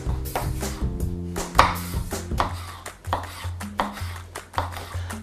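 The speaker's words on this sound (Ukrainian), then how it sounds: "після того, як ми нарізали їх такими от пластинками, тепер ріжемо кубиками" A knife chops eggplant into medium cubes on a cutting board, quick uneven strokes close up, with faint kitchen clatter in the background.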